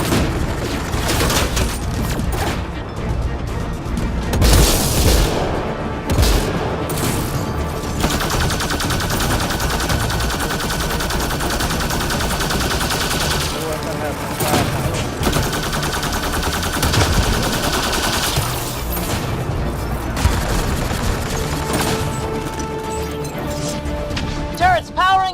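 Security turrets fire in a room in Mass Effect Andromeda, with continuous loud gunfire, crashes and impacts over dense game noise and a talking voice.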